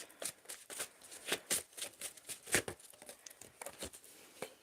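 A deck of cards is shuffled close by in quick, soft riffling bursts, repeated several times at a low level with no voices.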